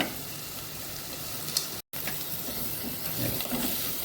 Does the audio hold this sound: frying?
yes